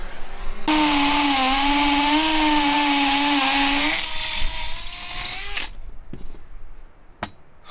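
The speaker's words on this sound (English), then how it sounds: "trying to drill through, and we'll see if we get there" A power drill boring through wood on a cabin build in Wyoming, a loud, steady high-pitched whine that shifts in pitch as the bit bites, then cuts off with a few clunks afterward.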